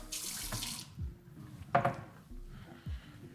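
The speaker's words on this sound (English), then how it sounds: "We're just going to fill it up with some cold water." Cold water running from a kitchen tap into a pot of rinsed rice, with a broad hiss, splashing bursts and a few clanks of the pot, close and fairly quiet.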